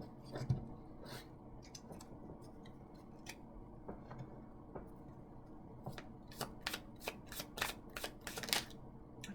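Tarot cards are handled quietly and close by, with scattered soft taps giving way to a quick series of sharp riffling snaps near the end.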